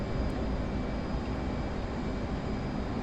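An F-15E jet engine roars at takeoff in the video game DCS, a steady, dense, unbroken rumble holding constant loudness throughout with no talk.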